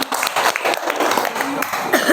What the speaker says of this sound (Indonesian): Ayo kita beri tepuk tangan untuk kelompok